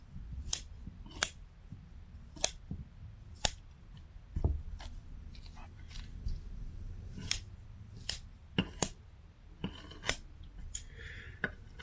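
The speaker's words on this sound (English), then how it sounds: "So I'll get all this moss trimmed up" Scissors snip moss on a maple bonsai in a fall cleanup, a steady series of sharp, close cuts spaced about a second apart, heard alone without talk.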